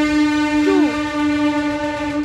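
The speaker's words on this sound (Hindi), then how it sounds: "ट्रेन जा रही है यहाँ से।" Train in Prayagraj (Allahabad), Uttar Pradesh, heard as a steady loud rumble with a sustained horn and a brief bending blare near the middle, continuous throughout and without talk.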